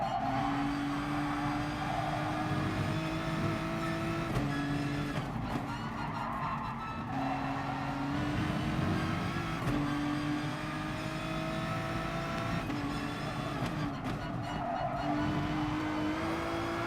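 A race car engine in a racing video game drones steadily with repeated rising tones as it climbs through the gears and drops back at each shift, some skid-like scrapes in between, and no talk.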